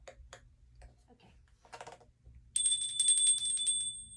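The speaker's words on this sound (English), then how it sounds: "I'm going to get my bell." A small bell rung once to clear energy during a tarot reading, its bright tone ringing on and sustaining after some light tapping and handling noises.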